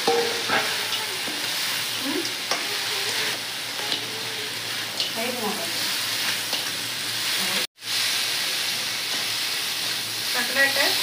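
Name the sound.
crab frying in spiced masala with potatoes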